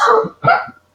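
Two quick, sharp bursts of breath sound close by, like a short double sneeze, then silence.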